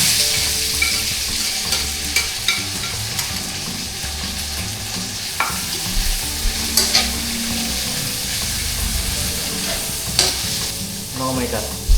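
Onions sizzle and fry steadily in a hot pan, with a continuous crackling hiss and occasional sharper pops and stirring scrapes close by, no talking over it.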